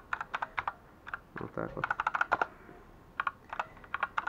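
Typing on an LED mechanical keyboard, a quick run of sharp, clicky keystrokes in bursts with short pauses, close and fairly loud, with someone speaking briefly partway through.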